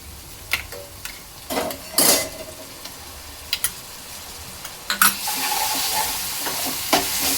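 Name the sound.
green paste and onion sautéing in pan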